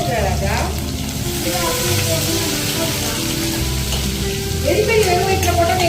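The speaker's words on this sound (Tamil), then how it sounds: "நான் போட வறுத்து தரேன்." Food frying in a pan in a home kitchen, a loud, close, continuous sizzle with occasional stirring, while voices talk intermittently over it.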